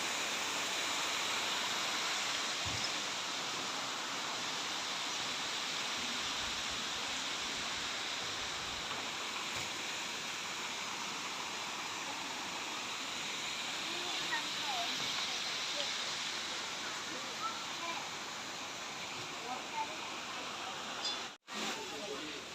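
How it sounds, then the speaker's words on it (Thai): Waterfall at Wat Tham Pha Daen temple in Sakon Nakhon, Thailand, heard as a steady, unbroken rush of water that fills the whole stretch with a broad hiss, briefly dipping near the end. "ใกล้ๆน้ำตกครับ"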